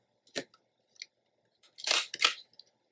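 A corner chomper punch cuts a paper corner, giving a few short, crisp snips and crunches, one faint, then two louder close bursts in quick succession, alone without talk.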